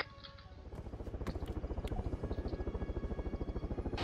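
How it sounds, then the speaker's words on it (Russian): A helicopter in the military game Arma 3 approaches, its rotor chopping in a fast, even pulse that grows louder and steadier, heard alone without speech. "Вертушку слышу"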